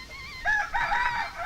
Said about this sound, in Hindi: मुर्गा मुर्गी।